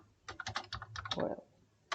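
A short burst of typing on a computer keyboard, about a dozen quick close key clicks in an irregular run, alone in a quiet room.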